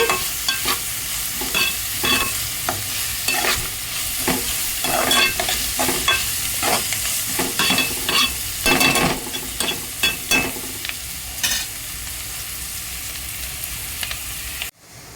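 Food frying and being stirred in a pan during egg curry and fish fry cooking, with a steady loud sizzle broken by repeated scraping stir strokes, close and continuous with no talk, ending abruptly.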